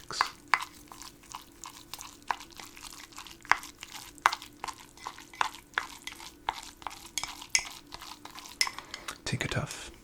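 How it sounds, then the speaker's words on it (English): Chopsticks stir ramen in a bowl, giving a steady run of light clinks and taps against the dish with soft wet mixing in between, close and quiet, ending in a brief louder rustle. "And your chopsticks to mix."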